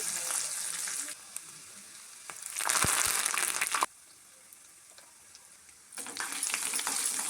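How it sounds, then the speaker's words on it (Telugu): Hot oil sizzles and splutters steadily as turmeric and curry leaves hit it, swelling to louder, crackling bursts twice before settling back to a low hiss. "ఇలా చిటపటలాడుతున్నప్పుడు స్టవ్ ఆఫ్ చేసుకోవాలి"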